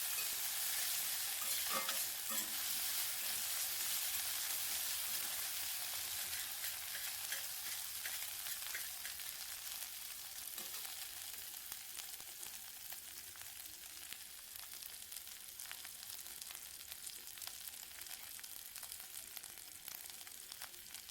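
Chopped onion sautéing in hot oil in a pan for a Bengali fish curry, a steady, close sizzle and crackle that holds at an even level throughout, with occasional faint stirring sounds.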